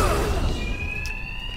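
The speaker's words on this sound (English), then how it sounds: "these thugs can't hear a thing over the alarms" In the video game Batman Arkham Knight, a high electronic alarm tone rings steadily over a low rumbling background, loud and continuous, while a brief clatter occurs near the start.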